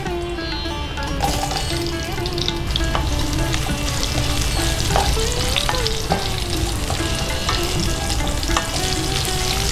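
Potato pieces sizzle steadily in hot oil seasoned with asafoetida for a mixed vegetable dish, with repeated scraping and stirring strokes ringing out over a continuous close frying hiss.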